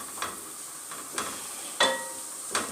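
Vegetables sizzle steadily in a hot pan while being turned, with about four distinct scraping stir strokes rising over the frying hiss, close and alone.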